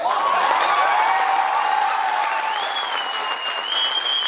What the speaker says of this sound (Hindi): तालियों की आवाज है।